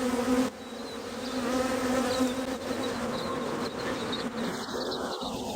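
Honey bees hum and buzz steadily around a brood frame lifted from a hive during queen rearing, a dense close swarm drone that holds for the whole stretch with no talking.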